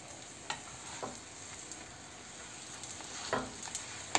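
Cheese quesadilla browning in a pan, a steady close sizzle of frying with a few faint scrapes and taps, no voices.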